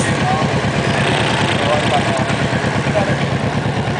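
A motorcycle engine idles steadily up close in Taiwan while the rider parks, its low pulsing throb continuous throughout with street noise around.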